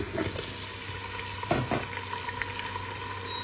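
Dried onions fry in a pan with a dense, continuous crackling sizzle up close, broken by a couple of sharper spatula scrapes midway; no one talks.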